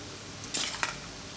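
Chicken curry sauce spooned onto biryani rice: a couple of short, close clinks of a spoon against a dish, with a soft wet scrape between them.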